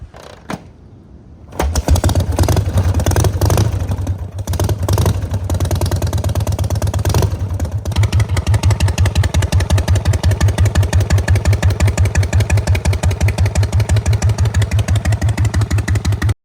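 A 1951 Harley-Davidson EL Panhead V-twin motorcycle engine starts with a few clicks and then runs steadily, loud and close, with a rhythmic low loping idle that continues for the rest of the clip.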